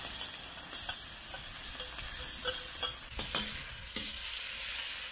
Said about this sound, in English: But I've now got to make my heart stir fry. And that'll go straight into that oil.